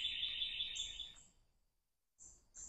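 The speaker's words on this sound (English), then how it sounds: "All the sweet birds." Birds chirp and sing in high, bright bursts, with a sustained trill at the start that fades into a short silence before more calls return, fairly faint overall.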